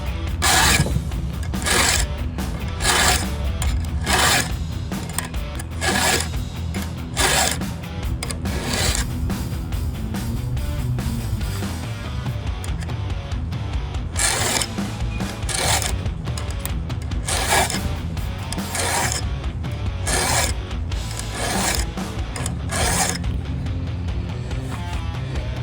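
A hand file sharpens a chainsaw chain, rasping in steady, evenly spaced strokes close by. The strokes continue without a break and no one speaks.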